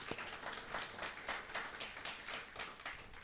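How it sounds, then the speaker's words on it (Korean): A church congregation claps together during a Sunday morning service, producing a faint, steady rhythmic patter of hands with no talk. "우리 박수 한번 칠까요?"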